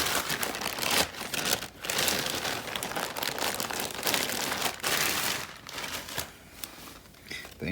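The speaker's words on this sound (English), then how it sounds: "you may hear some rustling as I get my threads out of the bag." A plastic bag crinkles and rustles as embroidery floss is pulled out of it, giving busy, close crackling in irregular bursts with brief lulls.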